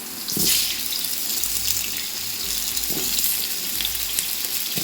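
Potatoes with salt and turmeric frying in hot mustard oil in a large kadai, a big batch for aloo dum: a steady hiss and sizzle throughout, with occasional scraping stirs and clanks.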